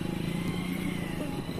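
A motorcycle ridden at night on the way to a Navratri fair in Bihar, its engine putting out a steady, close, throbbing rumble throughout with a faint rattle.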